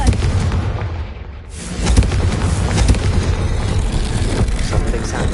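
A Confringo blasting spell is cast in the Hogwarts Legacy game, a loud booming burst that swells after a brief quiet lull and rolls on as a dense, crackling roar.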